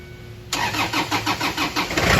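A Kubota Ranger engine fresh from a cylinder head and intercooler install cranks and fires about halfway in, settling into a loud, steady, pulsing run up close with no talk.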